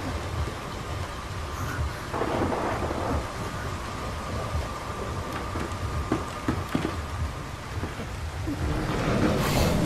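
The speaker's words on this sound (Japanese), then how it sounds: "雷だ。" Thunder rumbling through a rainstorm in the video game Fatal Frame: Maiden of Black Water, a long low roll under steady rain, with a steady tone running through most of it and a swell near the end.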